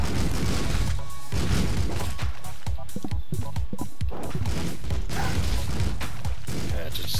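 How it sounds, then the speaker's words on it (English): Gunfire in the video game Streets of Rogue as cannibals shoot at a soldier: a steady, dense clatter of shots and impacts over a constant game background. "A soldier getting shot at by cannibals."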